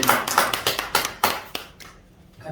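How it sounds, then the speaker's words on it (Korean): Church congregation applauding to welcome the senior pastor before his sermon, a burst of hand claps with sharp peaks that fades out after about a second and a half. "우리 한번 크게 할렐루야 박수로 환영합니다"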